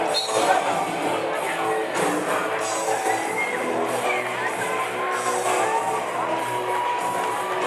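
Crowd at a high school boys' varsity basketball sub-state game during a timeout show with cheerleaders, a steady wash of cheering, shouts and whoops that stays loud and continuous throughout.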